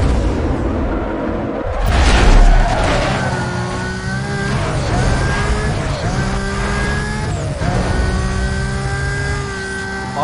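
A Mercedes McLaren races in Need for Speed Most Wanted, its engine roaring loud and continuous, the pitch climbing and dropping with each gear shift, with no talking over it.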